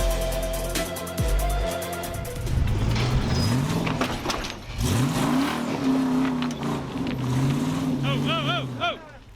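An off-road vehicle engine on a Johnson Valley trail revs hard and repeatedly as the wheels lose traction, its pitch swooping up and down in loud close surges, with voices talking over it.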